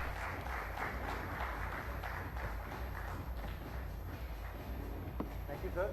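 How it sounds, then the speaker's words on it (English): Steady, dense applause from an audience honouring panelists at a real estate awards conclave in Gujarat. It is a continuous wash of many hands held at a constant level for several seconds, with no break. "Can we have a huge round of applause for all the panelists"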